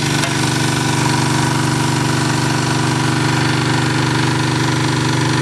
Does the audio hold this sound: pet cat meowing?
no